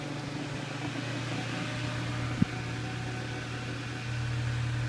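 A Holmes Blizzard II electric fan with a General Electric motor runs on its high setting, giving a steady close whir with a strong low motor hum and broad airy rush, plus a brief click partway through.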